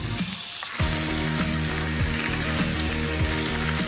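Parma ham crisping in a hot pan gives a steady, close sizzle and crackle throughout, with occasional soft scrapes or shifts of the slices and no talking.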